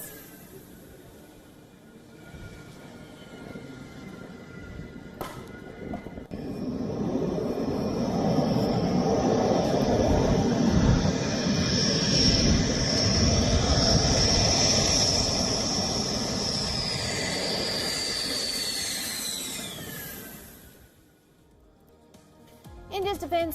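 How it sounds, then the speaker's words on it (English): Dassault Rafale fighter jets land at Ambala Air Base. A broad engine roar swells and holds with a high turbine whine across it, then fades near the end. "On your screens are the visuals of the landing of the Rafale jets at the Ambala Air Base."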